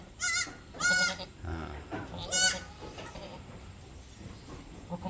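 Newborn Boer cross goat kid from an F1 doe bleating on a goat farm in Bulungan, North Kalimantan: two or three short, close, wavering bleats in quick succession early on, with faint background voices and farm noise.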